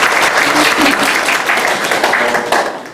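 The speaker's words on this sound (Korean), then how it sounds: "오늘 박수도 좀" Audience applauding at a student study talk concert about getting into medical school, a loud, close burst of many hands clapping that holds steady and then begins to taper off.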